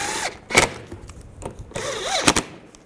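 Cordless power drill tightening screws on a radiator fan assembly of a 2010-2017 Chevrolet Equinox, two short whirring bursts that rise and fall in pitch, each ending with clicks and clanks of metal, heard close.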